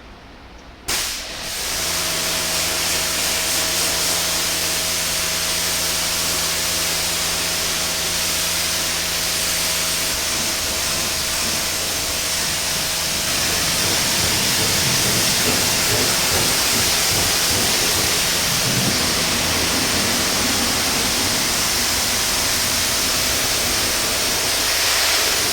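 A water spray rinses down a 1951 Chevrolet 3100 resto-mod truck, a loud, steady hissing rush that continues for the whole stretch, close to the microphone with a faint hum underneath.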